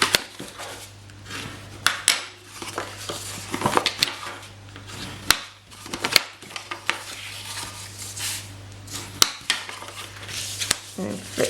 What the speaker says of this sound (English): we're going to cut off that very end section there, that little rectangle on the end